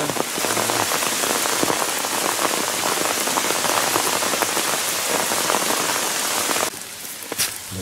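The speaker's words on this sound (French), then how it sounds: "La pluie s'est un peu calmée" Steady rain pours down on a hiking trail in the Cévennes, Massif de l'Aigoual, a dense continuous hiss of drops close around, easing noticeably near the end.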